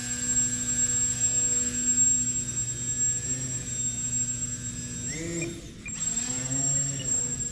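Electric RC foam delta wing plane on a 3S battery pack, its propeller motor whining steadily with a pitch sweep as it maneuvers, fairly close.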